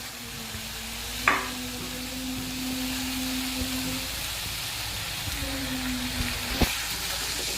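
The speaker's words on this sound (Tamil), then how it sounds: "இது கொஞ்சம் நல்லா வதங்கட்டும்." Tomatoes and onions with salt sauté softly in a pan for kara chutney, a quiet continuous sizzle with a couple of sharp spatula scrapes and taps, nobody speaking.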